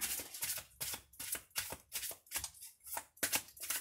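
Tarot cards shuffled by hand up close, a rapid run of crisp papery riffles and slaps in quick uneven bursts, no talking.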